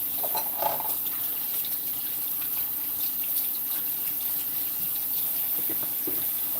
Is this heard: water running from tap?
yes